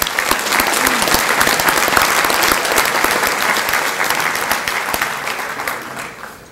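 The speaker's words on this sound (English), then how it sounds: "Let's please give them a round of applause." Guests at an awards luncheon in Torrance, California, applaud event sponsors with loud, close, sustained clapping that tapers off toward the end.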